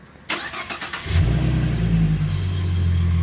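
A 2015 Ford Mustang V6 with a Flowmaster axle-back exhaust is remote started: a few faint clicks first, then the engine cranks and catches with a burst and settles into a steady, deep, throaty idle close by.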